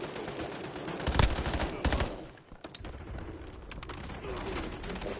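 Automatic gunfire crackles at the player in Call of Duty Warzone Black Ops 7, with sharp bursts near the start, a brief lull, then quieter scattered shots continuing at mid-distance.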